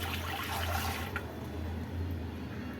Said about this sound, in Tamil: சில்லுன்னு தண்ணி ஊற்றிக்கலாம்.